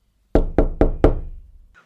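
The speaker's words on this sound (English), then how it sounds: "a cheerful maid knocked on my door." Four firm knocks on a hotel room door, evenly spaced and close, each ringing briefly before fading into quiet.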